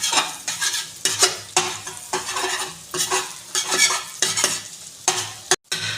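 An egg frying lightly in a pan for homemade momo filling, with a steady sizzle broken by repeated bursts of stirring and scraping against the pan, loud and close, with no talking.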